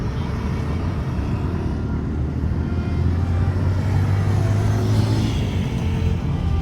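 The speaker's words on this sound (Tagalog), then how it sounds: "So yan mga sasakyan." Steady low road rumble from passing vehicles, with a car engine swelling somewhat nearer in the latter half, continuous with no talk.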